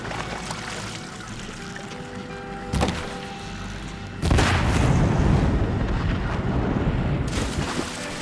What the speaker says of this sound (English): The good thing about these bombs is that their blast radius is pretty small, and it also takes about 2 seconds for them to go off.